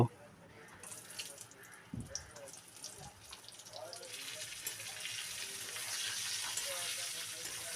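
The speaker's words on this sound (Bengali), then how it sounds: "গ্যাসের ওভেনে কড়াই বসিয়েছি, সর্ষের তেল দেব পরিমাণ মতো। পটলগুলো ভেজে নেব।" Pointed gourd fries in mustard oil in a wok on a gas stove, its faint crackling sizzle building gradually into a steadier, louder hiss over several seconds.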